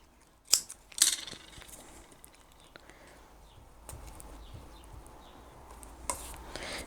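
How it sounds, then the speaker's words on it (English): Scissors cut a fabric tab for a cross-body bag in two sharp, close snips near the start. A quiet room hum and faint handling noise continue afterward. "So I might cut that in half."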